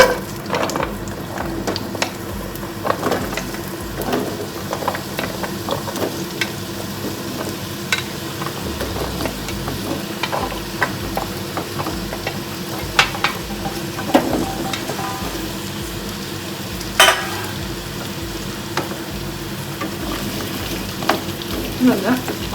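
Chopped pumpkin fries in hot oil in a pan, a low continuous sizzle with scattered scraping and clinking as it is stirred, and a few louder knocks of the spoon against the pan.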